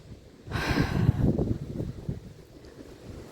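Wind gusts blowing outdoors in a garden, a rumbling buffet of air striking the microphone that swells suddenly and then lingers in an uneven, blustery roar.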